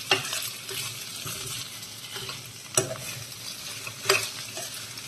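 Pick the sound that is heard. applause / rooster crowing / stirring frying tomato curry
stirring frying tomato curry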